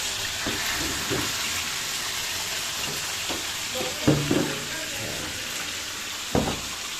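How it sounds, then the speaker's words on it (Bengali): Fish fries in hot oil with a loud, steady sizzle, broken by a few sharp clinks and scrapes of a utensil against the pan, at an old-age home in Barisal. "আমরা এখন এটাকে তেলে চড়চড়া করে ভাজি করব"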